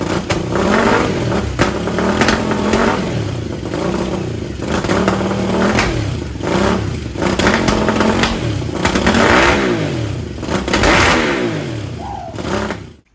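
A 1000cc monster kart engine runs loud and close, with baffles still in the mufflers, revving up and down in repeated surges over a rough, slightly low idle before cutting off at the end.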